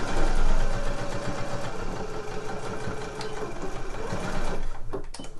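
Sewing machine stitching through several fabric layers of a slipper upper with a lining, a steady close mechanical whirr running continuously, then a few clicks and a brief stop near the end.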